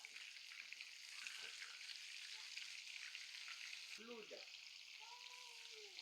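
Crab coated in masala batter dropped into hot oil, giving a steady, quiet, hissing sizzle that runs throughout, with a voice talking over the frying.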